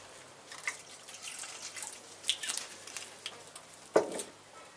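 A splash of white wine trickles and drips into a pan with basil pesto, quiet patters and small splashes with a couple of brighter drops, close and soft, no talk.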